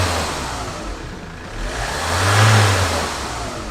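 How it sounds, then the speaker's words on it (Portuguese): A car engine revs up loudly and steadily, rising to a strong peak before easing back, heard close with no voices. "Acelerar o motor e comparar essas duas pressões"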